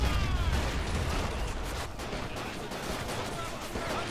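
Sniper and infantry gunfire in the strategy video game Battle of Empires 2, a dense, continuous crackle of shots and battle noise running for several seconds.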